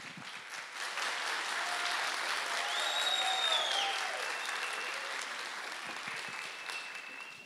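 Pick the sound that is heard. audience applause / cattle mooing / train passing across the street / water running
audience applause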